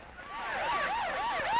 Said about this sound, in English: Ambulances screamed throughout Beirut, carrying dead and wounded to nearby hospitals